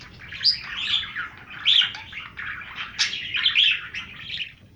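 Several bursts of bright, chattering bird chirps from a pet budgie, fairly close and steady, coming in rapid phrases with short pauses between them and no talking.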